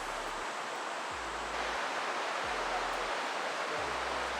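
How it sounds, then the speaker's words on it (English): A waterfall roars at the base of the falls in Tropical North Queensland, a steady, close and unbroken wash of broadband water noise with no voices over it. "So I'm at the base of the waterfalls."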